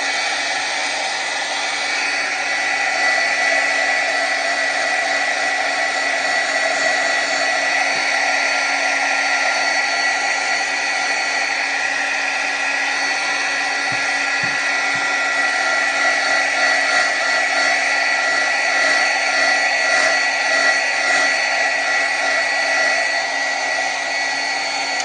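A heat tool blows continuously on distressed dilution ink sprays, a steady, close, high-pitched whirring hiss that holds level for the whole stretch with no talking.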